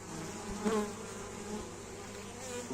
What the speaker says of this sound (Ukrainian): От бачимо, пішли бджілки з обніжкою, пробивається.